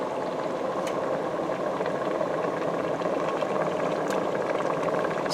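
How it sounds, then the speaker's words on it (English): Water at a rolling boil in a pot holding canning jars and equipment on a stove, a steady loud bubbling hiss with a couple of faint metallic clinks. "as you can see and probably hear, they are now boiling"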